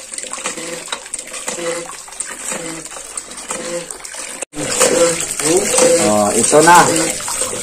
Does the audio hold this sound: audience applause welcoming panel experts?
no